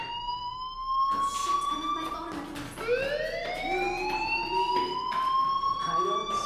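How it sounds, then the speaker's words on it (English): A fire alarm in the video game Life Is Strange, an electronic siren-like tone that repeatedly sweeps upward in long wailing rises, loud and steady, with brief clatter between sweeps. "do you hear that fire alarm?"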